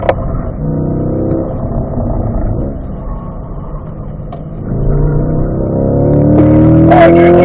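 A car accelerates in third gear along a short straight on a race track, its engine note rising steadily and growing louder, with a brief higher whine near the end.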